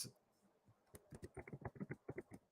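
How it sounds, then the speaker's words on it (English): Rapid typing on a computer keyboard, a run of quick, crisp key clicks with short irregular pauses, close and fairly quiet, with no voices. "I'm typing in something real quickly"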